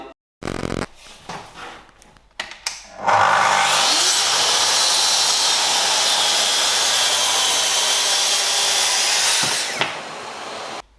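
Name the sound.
Festool TS55 FEQB plunge saw cutting 16 mm melamine panel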